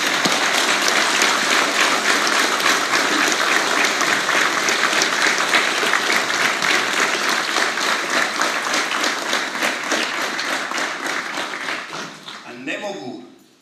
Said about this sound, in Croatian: može li jedan aplauz za Hrvatsku?